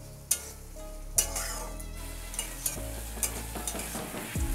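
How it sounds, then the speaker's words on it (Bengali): Spice paste with two green chillies being stir-fried and scraped in a pan, with sharp spatula knocks over a steady low sizzle, no voices. "এবার ভালো করে মশলাটা আমি কষিয়ে নেব।"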